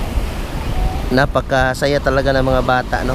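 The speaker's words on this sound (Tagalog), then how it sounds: "medyo mataas pa yung alon" Rough sea surf at a beach birthday gathering rushes and hisses with wind buffeting the microphone, while someone talks over it for most of the moment.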